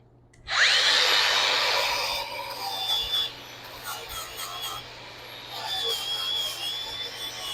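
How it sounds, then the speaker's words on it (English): Wire wheel spun by a drill scrubbing dirt and grime off metal blaster parts, a loud harsh whirring grind that starts abruptly, holds for a couple of seconds, then continues at lower level with uneven scraping. "We're going to hit them with the wire wheel, get everything off of them, all the dirt and grime"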